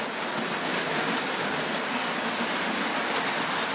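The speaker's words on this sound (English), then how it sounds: "There comes the passenger train." A passenger train passes on a coal and steel railroad, a continuous moderate rumble with faint rolling wheel noise that holds steady at middle distance, with no talk.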